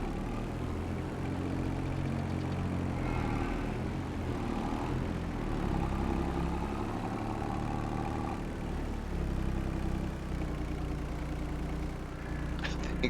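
A small tractor engine idles in the Farming Simulator 22 video game, a steady low rumble that holds through the whole stretch, with a few light clicks near the end.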